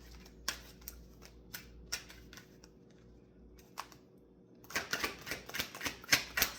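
Tarot cards shuffled and drawn by hand, a soft run of papery flicks and taps, sparse at first and then a denser, louder burst of rapid riffling near the end, close and with no voices.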